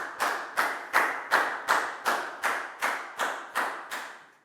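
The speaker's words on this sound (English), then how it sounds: "Big round of applause for Lakgao" Classroom clapping for a student during a Year 4 lesson: about ten loud, evenly spaced claps in a steady rhythm, each sharp and ringing briefly, close and clear with no talking.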